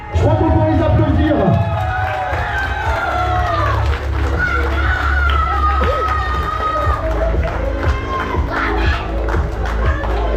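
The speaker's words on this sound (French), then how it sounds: "Je crois qu'on peut les applaudir" Wedding guests at a New Year's celebration cheer and applaud for a king and queen in a carriage with horses and a coachman. The crowd noise is loud and lively, with shouts and whoops, and voices talk throughout.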